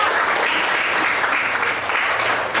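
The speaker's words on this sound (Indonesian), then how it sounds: "Oke, beri tepuk tangan untuk Rara." A classroom of students applauds a classmate in a lesson on breathing: dense, even clapping from many hands, close and steady for the whole stretch with no one speaking.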